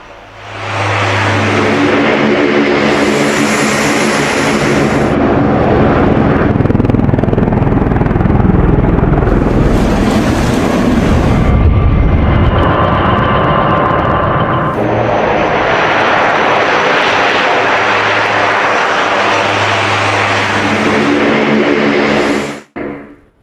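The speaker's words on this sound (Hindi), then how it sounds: "ये देख रहे हैं अमेरिकी C-130 विमान, ये विमान भी उतार दिया गया था।" US C-130 military transport aircraft with loud, steady propeller engine drone throughout, sustained and close, cutting off abruptly at the end.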